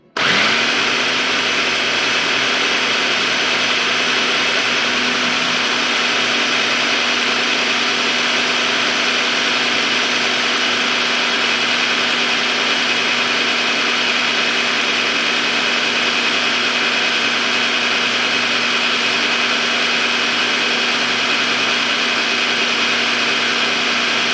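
A blender motor runs loud and steady, a continuous high whirring drone that never lets up, with no talking, while mixing buttercup squash pie filling.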